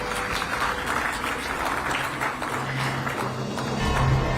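Audience applause at an awards ceremony for health professionals, a steady patter of many hands clapping at moderate distance, with a low hum and a brief voice near the end.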